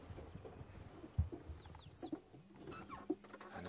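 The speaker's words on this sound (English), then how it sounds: "And it is a fork-tailed drongo." A fork-tailed drongo calls several times outdoors on a safari sunrise drive, short bright whistled notes spread across a quiet morning with faint background noise and a few low thumps.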